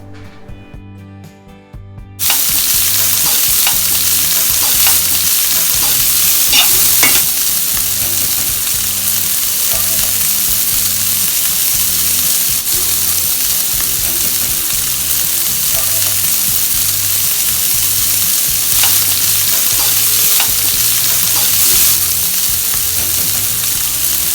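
Onions sautéing in a pan for dragon chicken give a loud, steady sizzle with occasional stirring clatter, running continuously after a brief quieter start.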